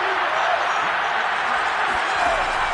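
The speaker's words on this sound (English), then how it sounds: "Crowd getting in it a bit already." A professional football stadium crowd roars on a third-down play, a steady, dense wash of cheering and noise that holds at an even loudness throughout.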